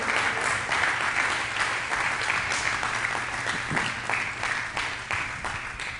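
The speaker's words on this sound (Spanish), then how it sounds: "Denle ese aplauso fuerte al Señor." A church congregation applauds, a dense and continuous round of clapping from many hands that fills the room steadily for several seconds.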